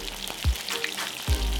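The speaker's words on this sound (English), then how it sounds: "All you need is to heat a pan of oil till it's boiling and put the fish right in." Yellow tang fish fries in a pan of boiling oil with a steady, close sizzle and crackle, plus two brief clattering knocks from the pan.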